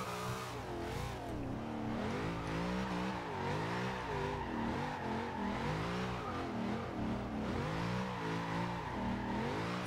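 A Chevrolet Monte Carlo SS drift build slides through corners in Forza Horizon 2, its engine revving up and down in wavering swells over squealing tires, loud and continuous for the whole stretch.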